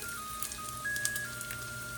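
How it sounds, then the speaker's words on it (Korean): A short, faint chime from an electric cooker signals the pasta noodles are done, sounding over a low background of sizzling. "면이 다 됐다는 소리가 들리네요."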